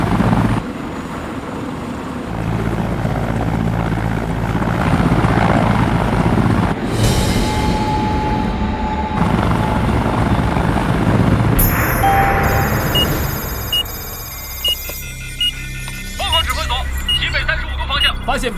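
A helicopter flying close overhead, its rotor and engine producing a loud steady roar that swells and shifts over nearly twenty seconds, with voices talking and other sound effects mixed in and over it.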